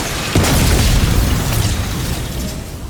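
A heavy explosion in Call of Duty Black Ops 6 on Liberty Falls, fired from the jet gun: a sudden loud boom, then a long rumbling decay with crackling debris.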